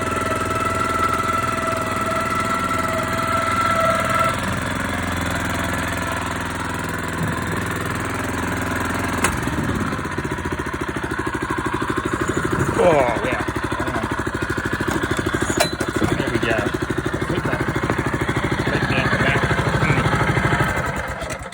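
A ride-on lawn scarifier working a home putting green, its engine droning steadily and close by for the whole stretch with a rough, knocking mid-range tone, and a voice speaks over it at points.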